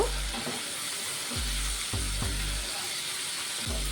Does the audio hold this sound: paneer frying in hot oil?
yes